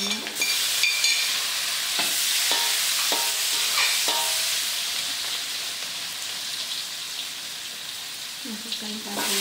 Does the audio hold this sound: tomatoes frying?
yes